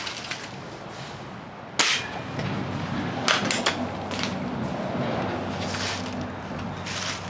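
Air gun pellet shots strike a Nine Eagles Galaxy Visitor 2 quadcopter, giving two or three sharp, brief cracks spaced a couple of seconds apart over a steady background hiss.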